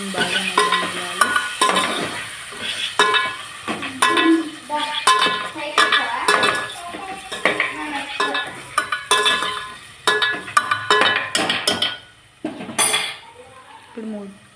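Tomatoes being stirred in a cooking pot for tomato curry, close, loud clanks and scrapes of a metal spoon against the pot over a soft sizzle, coming in quick irregular bursts with no talking.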